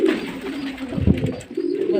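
A male pigeon coos in low, throaty, rolling calls, close and fairly loud, with a brief pause before the cooing resumes.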